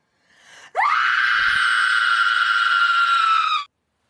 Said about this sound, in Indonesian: Rebecca malah berteriak sekencang-kencangnya